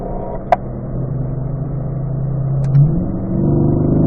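A race car accelerates down a straightaway on a track, its engine droning loud and close inside the cockpit, the pitch climbing steadily and swelling toward the end.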